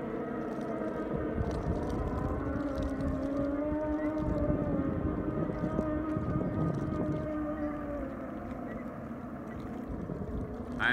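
Several highly tuned mini hydroplane racing boat engines idle and drone together on a lake before the start, a steady layered buzzing hum with harmonic whine, moderately loud and continuous without speech.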